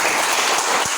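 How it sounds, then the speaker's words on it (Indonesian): Audience applause at a group session, a brief burst of dense clapping that fills the room evenly and loudly from start to end. "Oke, kita kasih tepuk tangan."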